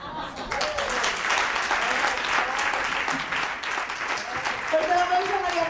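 A crowd applauds a researcher at a university comedy monologue event, dense clapping filling the room throughout, with a voice speaking over it toward the end.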